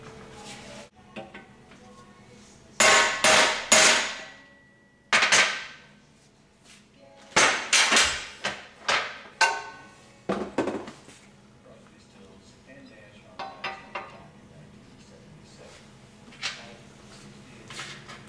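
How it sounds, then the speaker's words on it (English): A Corvette rear wheel bearing dust shield being driven on with a large bearing race and a big piece of pipe: bursts of sharp metallic clanks and bangs in uneven clusters, separated by quieter pauses. "I use a big bearing race and a giant piece of pipe to pound that race on, or that dust shield on"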